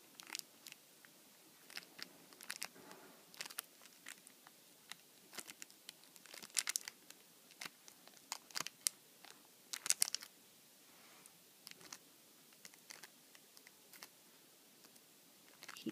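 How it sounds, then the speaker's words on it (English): A plastic bag crinkles and crunches as it is pressed down onto wet nail varnish, giving close, irregular bursts of crackling and rustling throughout with no talking. "Then you're going to get the plastic bag and then just squish down all the nail varnishes."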